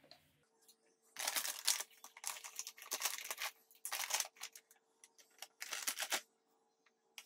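Postpartum underwear is unpacked from its packaging, several bursts of close crinkling and rustling plastic with short pauses between them, repeating over about seven seconds alongside a faint steady hum.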